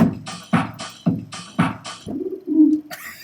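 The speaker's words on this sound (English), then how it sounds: "what do you think of pigeons?" A pigeon coos close up in a repeated rhythmic series of soft, throaty calls, ending in a longer drawn-out coo.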